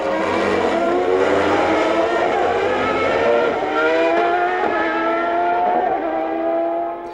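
Formula 1 race cars from 1993, an Andretti car and Karl Wendlinger's Sauber, scream past in close battle, their high-pitched engines loud and sustained with rising and falling revs throughout, no talking.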